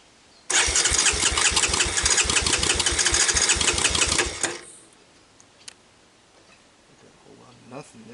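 An ATV engine cranks over with a rapid, rhythmic chugging for about four seconds, then stops without catching, followed by near silence with faint handling noises.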